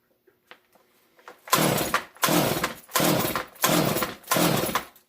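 A Stihl MS250 chainsaw, fired up after sitting unused for 15 years, coughs to life with choke on: after a few faint clicks, four or five loud, sustained engine bursts rise and cut out in an uneven rhythm, close to the microphone.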